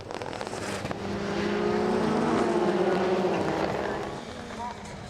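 Rallycross cars, a Citroen DS3 among them, power through a hairpin, engines rising to a loud snarling pass and fading, with commentary over the top.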